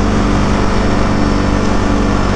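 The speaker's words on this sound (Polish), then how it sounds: "CF Moto 520 jest naprawdę głośny" A CF Moto 520 quad's engine runs steadily and loudly nearby, a constant rumbling drone with wind-like noise throughout.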